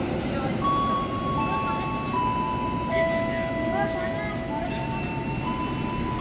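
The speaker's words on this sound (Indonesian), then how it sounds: "Persiapan melintas langsung adalah kereta api Argo Bromo Anggrek dari stasiun Surabaya Pasar Turi ke Jakarta Gambir via Semarang Tawang Mengceteng." The Argo Bromo Anggrek express passes straight through busy Jatinegara station, a steady, loud rolling rumble with sustained high tonal notes ringing over it throughout.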